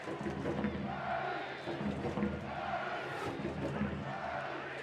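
Stadium crowd at a professional soccer match between Tampa Bay Rowdies and Montreal Impact, a steady distant roar of fans swelling slightly as the home side lines up a set piece, fairly faint and continuous.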